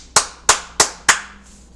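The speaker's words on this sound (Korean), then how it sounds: "박수 칩니다." Four sharp hand claps in an even, deliberate rhythm, close and loud, each ringing briefly before the next.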